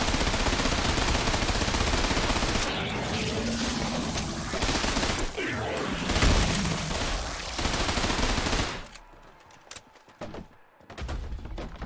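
Dense gunfire and explosive blasts from the shooter video game Trepang2 rattle continuously for several seconds, then thin out into quieter scattered shots and ambience.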